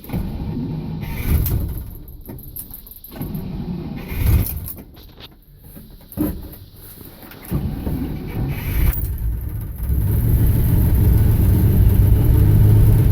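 A 1927 Studebaker rat rod engine cranks and sputters on heavy choke, catching and stumbling before settling into a loud, steady running roar near the end.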